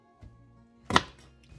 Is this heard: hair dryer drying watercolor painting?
no